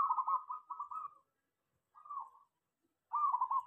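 A zebra dove's soft, rhythmic trilling coos in three short phrases separated by brief silences, clear and close against a quiet background.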